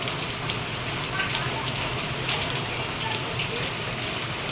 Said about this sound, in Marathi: आता परत रात्री चालू आहे पाऊस पूर्ण.